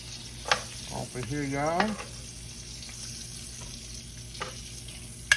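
Pieces of turkey sizzle and crackle as they drop into a hot Instant Pot, with a few sharp clatters and a brief spoken phrase over the frying.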